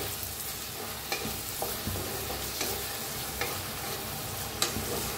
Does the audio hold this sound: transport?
no